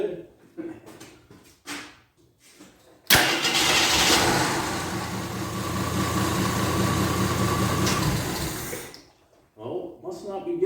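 A 1983 Scrambler motorcycle that had not run for years fires up with a sudden burst, roars unevenly for about six seconds, then cuts out, with people talking before and after.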